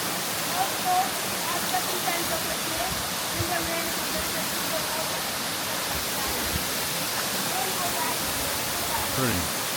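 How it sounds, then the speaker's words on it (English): Steady, dense roar of the Diamond waterfall in Saint Lucia, constant rushing water filling the scene from start to finish, with faint voices and footsteps of visitors beneath it. "Diamond waterfall."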